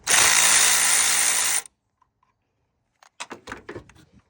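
A tool works loose the battery ground wire bolt on a 1998–2002 Honda Accord. A loud, continuous whirring burst is followed by silence, then a string of sharp ratcheting clicks close up.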